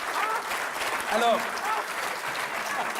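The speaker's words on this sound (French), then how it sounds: "Tout le monde vous applaudit, extraordinaire" Audience applause for contestants in a toy shop comedy game show, a steady wash of clapping with a host speaking briefly over it.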